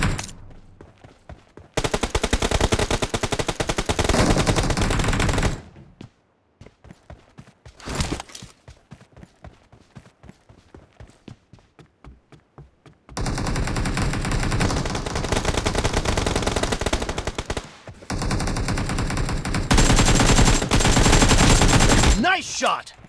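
Rapid automatic gunfire bursts from a team-match shooter video game come in long, loud stretches separated by brief gaps, with fast repeated shots and some short single-shot bursts.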